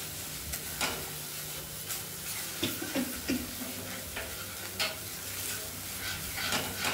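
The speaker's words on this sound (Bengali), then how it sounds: "এবার ভালোভাবে মা এটা কষে নেবে।" A masala of salt, turmeric and red chili powder is sautéed in a pan for rohu fish curry, a low sizzle punctuated by repeated scraping and tapping stirs at an irregular pace.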